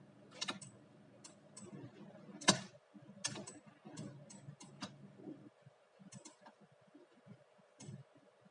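Computer mouse clicks during photo editing work in Photoshop, a series of sharp, irregular close clicks spaced through the clip, some grouped in quick pairs, faint and alone with no talk.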